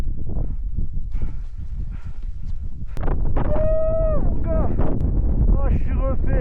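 Wind on the Mont Blanc summit at sunrise buffets the microphone with low, gusty rumbling, while voices and drawn-out tonal calls rise over it.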